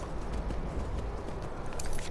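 Hooves of a horse being ridden in a video game, a steady clip-clopping gait over a rumbling low background, close and fairly loud throughout with no talking.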